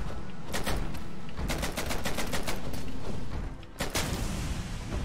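Rapid gunfire from an added gun in a Hollow Knight Randomizer game, a string of sharp, loud bursts fired in quick succession, pausing briefly before another burst near the end.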